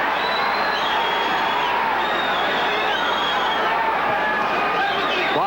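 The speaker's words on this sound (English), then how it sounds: "The crowd sensing something." A boxing arena crowd roars and murmurs in a dense, constant wash of noise as body shots land, with excited shouts rising through it under a commentator's voice.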